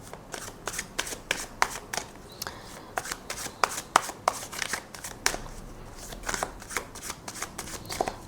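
A tarot card deck is shuffled close up in a quiet room, with repeated crisp riffling bursts and soft slaps coming in an irregular rhythm.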